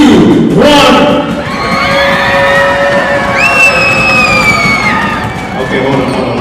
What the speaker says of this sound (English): I need you to scream as loud as you can, hit your seats, hit your drums